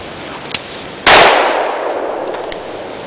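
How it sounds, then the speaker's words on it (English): A single loud revolver shot fired from a sixgun on the draw, a sharp blast with a trailing echo decaying over a second, preceded and followed by small clicks and metallic taps. "You can see it's really me drawing and shooting, probably about 15,"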